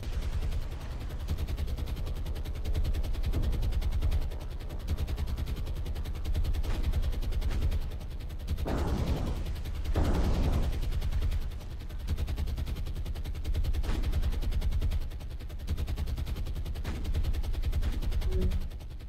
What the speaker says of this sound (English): So long as we evade all of this small arms and flak coming out.